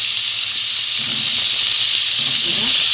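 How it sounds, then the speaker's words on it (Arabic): Potatoes sauté in a hot pan, giving off a steady bright sizzle and hiss throughout, with faint low stirring noises underneath. "علشان ندي البطاطس تشويحه"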